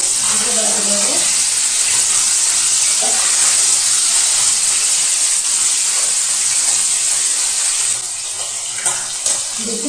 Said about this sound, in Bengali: আবার 1 পাশ ভেজে নামিয়ে নেব